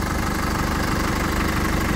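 A 2019 Holden Colorado Z71 with a 2.8 turbo diesel idles close by, a steady, loud, rhythmic diesel clatter with a low throbbing pulse and no other sounds.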